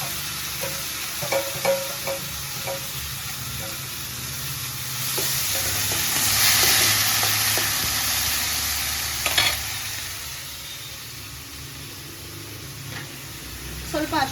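Tomato fries and sizzles in a pan while being stirred, a steady close hiss with scraping and clinking of the spoon, and someone talking over it.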